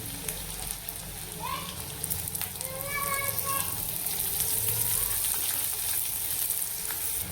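Onion and curry leaves frying in hot oil, giving a steady, close crackling sizzle throughout with a brief stirring scrape and a few faint tonal squeaks mid-way.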